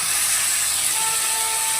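A splash of water hitting hot spices frying in a pan for a rohu fish curry with cauliflower, giving a loud, steady, close steaming hiss that fills the whole moment.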